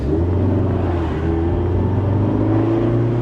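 A Mazda MX-5 ND sports car engine revs and accelerates with a steady, loud rumbling drone and rising harmonic whine, close by, with no talking.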